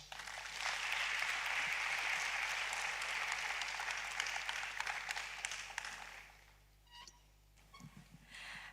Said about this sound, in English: A round of applause for Madam Linda once again